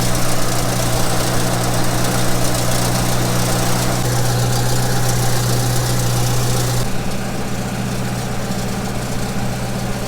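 A tractor engine runs steadily while spreading fertilizer on a field for potatoes and sweet corn, a loud, constant close-up drone with a deep hum and no breaks, heard from inside the cab.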